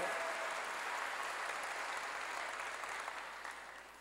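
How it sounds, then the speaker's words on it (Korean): A church congregation applauds together, a dense, steady wash of many hands clapping that fills the room, fading slightly toward the end. "믿으면 박수로 하나님께 영광을 돌려야 합니다."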